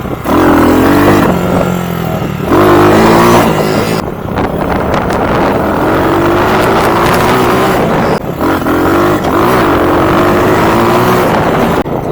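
An RPS Condor 150cc scooter engine, carburetor re-jetted and running slightly rich, revs loud and close under the throttle, its whine climbing and falling in repeated surges with a rough steady idle between.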